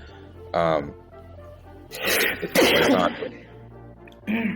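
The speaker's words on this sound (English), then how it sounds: "you can't be coughing, bro" A person coughs several times nearby, a short cough first, then a harsh burst of rough coughing and another brief cough at the end.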